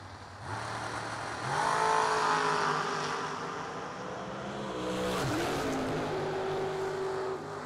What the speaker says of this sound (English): Pair of roadsters going down the racetrack.